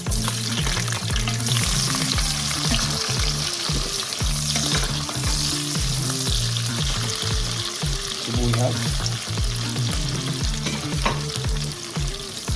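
Onions sauté in hot oil for pork pochero, giving a dense, steady sizzle layered with rhythmic spatula scraping and stirring, close and even in level, with no voices.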